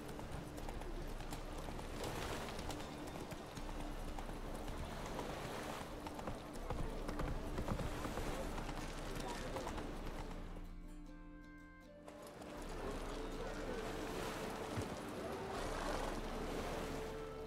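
Roach the horse's hooves clip-clop steadily in The Witcher 3, a continuous close rhythm over a bed of wind and rushing water-like ambience, briefly dipping quieter near the middle before resuming.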